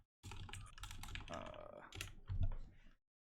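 Fast computer keyboard clicking during a World of Warcraft raid fight against Molten Giants, a dense run of close key taps with a raised voice briefly audible in the background.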